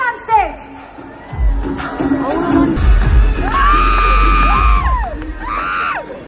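A crowd at a live concert at the YMCA cheers, whoops and yells loudly, with shouted calls and squeals rising over a dense wash of voices and some clapping.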